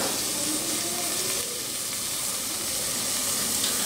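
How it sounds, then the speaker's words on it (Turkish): Raw chickpeas simmer in their own water with no added liquid, giving a steady, dense bubbling hiss that carries on without a break, close and even, with no voices. "Çiğ nohut. Tek kendi suyunda kaynıyor."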